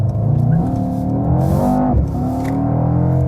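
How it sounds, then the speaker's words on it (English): Deep, throbbing engine note of a 621 hp Mercedes E63 S AMG accelerating hard out of a corner, heard loudly from inside the car as the revs climb and shift, with no voices. "Interesting also when we accelerate out the corner here."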